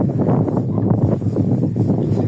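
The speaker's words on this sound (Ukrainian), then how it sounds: "ну тут вітер дуже сильний" Strong wind roars steadily and loudly, buffeting close with constant rushing noise throughout, no voices.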